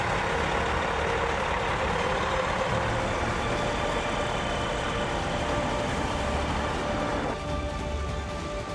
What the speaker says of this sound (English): The image of the long truck carrying a heavy load of logs struggling to cross a wooden bridge over snow.